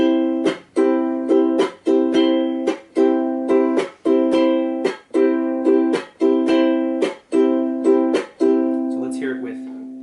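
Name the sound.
ukulele island strum with chucking on second and third down strums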